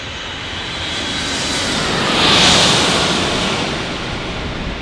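Boeing 757 jet engines roar steadily as the airliner passes a plane-spotting spot in San Diego, building to a loud broadband peak near the middle and then fading slightly, with no talk.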